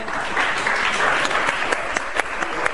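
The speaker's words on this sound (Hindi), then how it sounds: "बहुत सारी तालियां" A studio audience on a television show applauds with loud, dense clapping. A few sharper individual claps stand out near the end of the brief burst.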